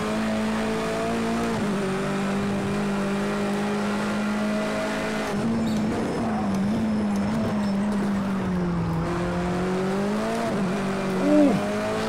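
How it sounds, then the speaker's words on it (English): A race car drifts through a corner in Project Cars 2, its engine holding a steady high drone with shifting pitch while tires squeal and scrub, continuous and loud. "Too much of the drift there."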